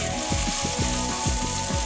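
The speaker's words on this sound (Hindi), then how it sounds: "ये देखिए ऑयल हो गया है गर्म और इसको हम सिर्फ सौते करेंगे" Hot oil sizzles loudly and continuously as ingredients are sautéed for kofta aloo curry, with rhythmic scraping strokes of a spoon against the pan every fraction of a second, close up.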